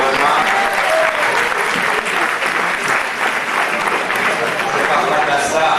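An audience gives Pierre Comte a dense, steady round of applause at an aero club gathering, many hands clapping together without letup for several seconds.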